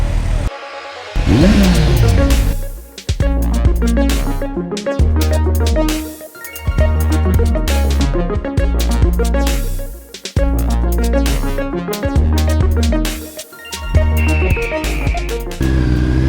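A motorcycle engine runs loud and close, revving up and down repeatedly with throaty rumbles and brief drops between pulls.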